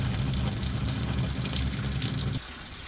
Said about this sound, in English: the tank will be filled to the brim with water.